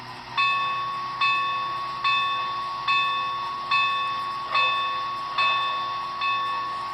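A bright mechanical bell from a Broadway Limited C&O L-1 Hudson model steam locomotive's sound decoder clangs steadily about once every second, eight strikes in a row, each ringing briefly before the next, with no voices.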